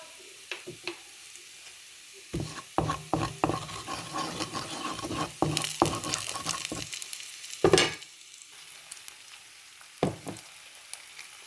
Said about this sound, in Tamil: இந்த உப்பு கலக்கிறதுக்காக இப்படி கிளறிடுவேன்